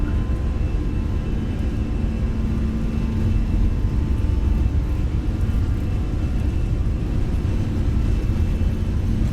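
Airbus jet engines at takeoff thrust in a flight simulator game roar as a loud, steady, low rumble with a constant whir, unbroken and continuous throughout, with no voices.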